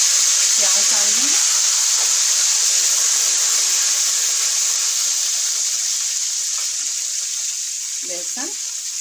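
Onions dropped into hot oil with fenugreek, nigella and cumin fry with a loud, continuous sizzle that stays close and even, while a voice speaks briefly near the start and end.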